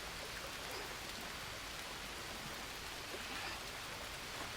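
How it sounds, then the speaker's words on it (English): Rain pours steadily in the Green Hell jungle survival game, an even, continuous hiss that holds at the same level throughout with no talking. "Let it fill with the rain."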